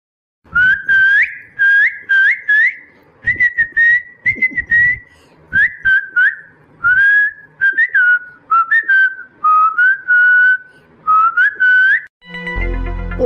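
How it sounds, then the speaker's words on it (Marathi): A person whistles on a village street in loud, close, melodic bursts that repeat in short phrases with brief pauses between them. A short burst of noise follows at the very end. "शिट्ट्या वाजून राहिला रस्त्यावर"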